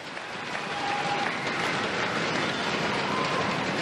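A Singapore crowd applauds a rally in the 2010 Youth Olympic Games table tennis boys' singles bronze medal match. The clapping swells in the first half-second, then holds a steady, full hiss of many hands.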